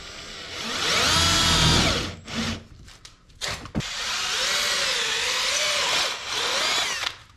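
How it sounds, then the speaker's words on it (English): A Milwaukee drill bores into a 2x4, its motor whine rising and falling in two long loud bursts separated by brief pauses and clicks, close and alone with no talk. "I'll use my drilling 2x4."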